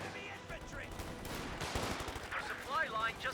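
Dense .50 cal machine gun suppression fire in a Company of Heroes 2 battle, with rapid overlapping bursts and other battle noise forming a continuous clatter throughout.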